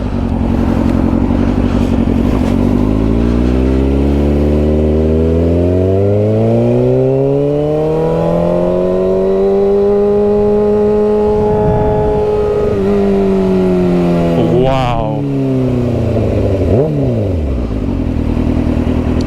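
A Kawasaki Ninja ZX6R 600cc sport bike engine revs while riding, pitch climbing smoothly through a long high-rpm pull, then dropping with quick gear changes and throttle blips, loud and close with wind noise beneath.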